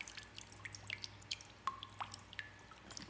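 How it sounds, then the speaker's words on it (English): Chilled, filtered seawater rinses sugar kelp sorus tissue, falling as faint, scattered drips and small splashes in an irregular patter over a quiet background hum. "using my chilled filtered seawater, I'll rinse the sorus tissue until the water running off of it appears to run clear"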